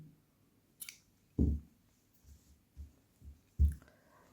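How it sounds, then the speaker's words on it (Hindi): Small scissors snip crochet thread in a quiet room, a few faint crisp clicks and snips spaced apart, close up. "यहाँ पर धागा काट देंगे।"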